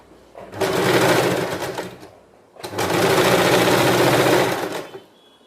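Sewing machine stitching along the edge of a cloth duster, two sustained loud runs of rapid motor-driven stitching separated by a short pause, with no talking.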